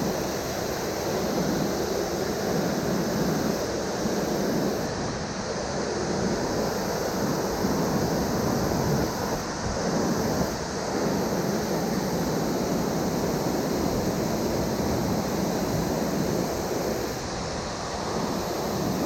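A waterfall cascades at a trout fishing spot, a steady, broadband rushing roar of falling water that stays constant throughout with no other sounds.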